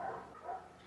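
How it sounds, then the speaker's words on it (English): Neighbors' dogs bark in the background, two soft muffled woofs about half a second apart, distant and faint. "Sorry about the dogs"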